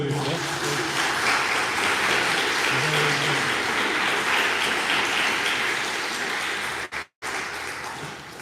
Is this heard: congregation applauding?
yes